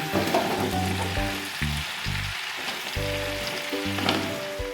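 Drumstick flowers fry in a pan with a dense, continuous, close sizzle, with faint low tones underneath and no talking.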